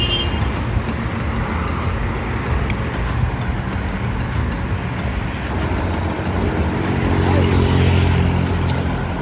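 Vehicles pass along a quiet provincial road in Al-Kharj province near Riyadh at night, their tire and engine rumble forming a steady, moderately loud drone that swells slightly toward the end.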